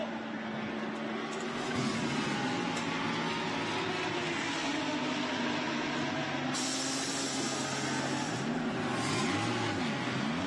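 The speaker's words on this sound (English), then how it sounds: "So Sutiluk Buncharoen accelerates away." Lamborghini Super Trofeo race car accelerating on the Shanghai circuit during a 2018 Asia series race, a loud sustained engine roar climbing through gears with rising and falling pitch for about ten seconds.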